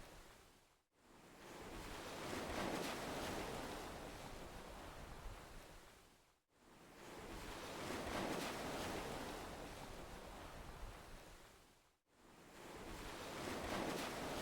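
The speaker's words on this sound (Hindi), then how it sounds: "जिस तरह लहरें अपने आप आ रही हैं और जा रही हैं" Ocean waves rolling in and drawing back, three long surges of broad hissing surf that swell and fade in a slow rhythm, each separated by a short quiet gap, with no voices.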